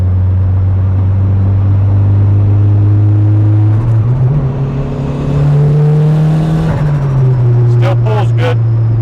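A turbocharged Honda Civic running without a tune accelerates under load, its loud, close engine drone climbing in pitch and then settling, with brief muffled voices near the end.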